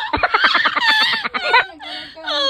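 A person imitates a crow's caw with a run of loud, harsh, honking voiced calls, close by, followed by a couple of longer drawn-out cries.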